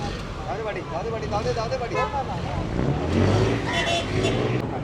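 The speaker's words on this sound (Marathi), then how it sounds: "या बोटीमधून रोरोमधून आता आपल्या गाड्या निघतात बाहेर" Cars roll off a RoRo ferry boat with a low engine rumble that swells near the end, mostly beneath steady nearby conversation.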